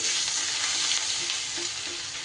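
Grated ginger sizzles steadily in hot oil while being stirred, a loud, continuous frying hiss that stays close and even throughout.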